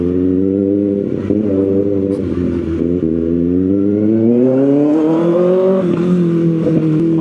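A 2025 Kawasaki ZX6R sport motorcycle engine revs loudly up close, its pitch climbing and dipping through sustained throttle sweeps with a harsh, powerful whine, no speech.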